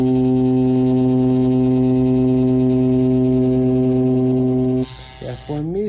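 A Dragonhawk Mast tattoo machine runs at a setting of 7.5, giving a steady, loud electric buzz for about five seconds before it cuts off and a few short bumps of handling noise follow.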